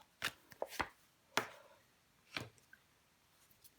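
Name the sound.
tarot card laid down covering the Queen of Cups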